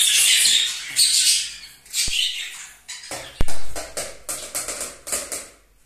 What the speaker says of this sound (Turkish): Kuşları susturmakla uğraşıyorum.